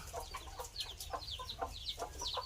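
A desi hen among her newly hatched chicks gives a run of soft, repeated clucks mixed with high chick peeps, fairly faint and with no talking.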